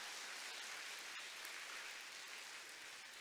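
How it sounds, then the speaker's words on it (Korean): A church congregation at a women's mission rally applauds together, a dense, steady wash of many hands clapping at an even level for several seconds without a break. "하나님께 영광의 박수 올려드려요"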